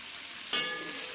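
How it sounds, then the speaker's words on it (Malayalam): Sliced onion and green chillies dropped into hot oil for sambar, a sudden loud sizzle that settles into steady frying, close up and brief. "പകുതി മൂത്ത് നമ്മൾ സവാളയും പച്ചമുളകും ഇട്ട് കൊടുക്കുവാണ്."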